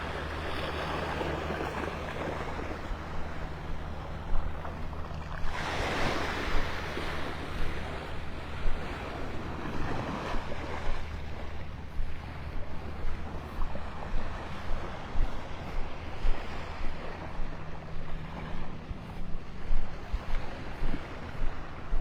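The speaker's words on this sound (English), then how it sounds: "A little breezy up here, a little breezier." Breezy wind sweeps over the beach at Delnor-Wiggins in North Naples, Florida, a continuous close rush of gusts with a soft surf wash beneath, swelling into rhythmic pulses toward the end.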